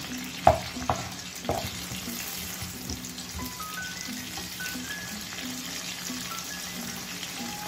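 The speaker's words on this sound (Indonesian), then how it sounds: "Kita tumis bawang bombaynya terlebih dahulu, masukkan." Steady sizzling of onions sautéing in oil in a pan, with a few sharp clinks and stirring scrapes near the start, no talking.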